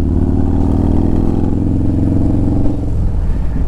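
A 130 cubic inch Harley-Davidson Road Glide motorcycle engine roars loud and close from a rider's position as it pulls hard through second and third gear, a steady heavy rumble with a pitch shift near the end.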